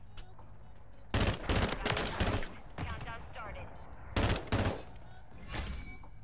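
Bursts of rapid automatic gunfire in the shooter Modern Warfare 3, several loud clusters of shots with pauses between them and quieter talk from players in the gaps.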